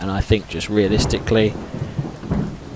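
Torrential rain and rumbling thunder from a storm in the game Skyrim form a steady wash beneath someone talking close up, which mostly covers the storm.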